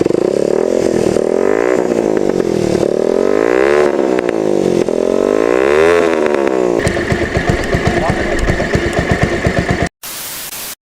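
Bajaj Pulsar 150 cafe racer with a modified exhaust revs repeatedly in rising and falling swells, then drops to a rough, clattering idle, loud and close.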